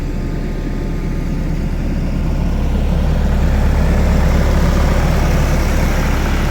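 A DTZ 504 tractor engine idles in winter snow, giving a loud, steady low diesel rumble that runs unbroken and swells slightly as it goes on.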